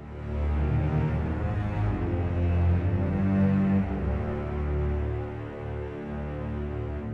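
Abbey Road One Legendary Low Strings sample library playing unprocessed, a sustained low string ensemble chord moving through a few notes, full and steady at a fairly loud level with no voices.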